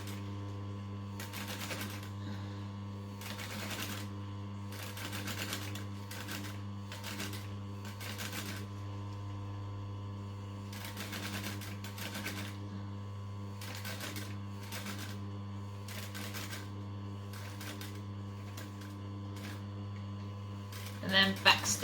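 A home sewing machine runs in short bursts while stitching and back stitching a circle skirt, each run a quick mechanical rattle separated by pauses, over a steady low electrical hum, ending with a few louder clicks.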